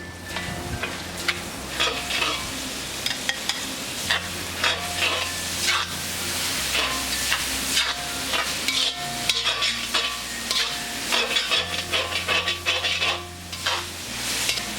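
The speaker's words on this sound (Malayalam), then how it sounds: "ഈ സവോള ചേർത്ത് വഴറ്റി കൊടുക്കാം." Onions are sautéed in a pan over high flame, a steady sizzle broken by repeated scraping and clinking of a spoon stirring them, close and continuous over a low musical hum.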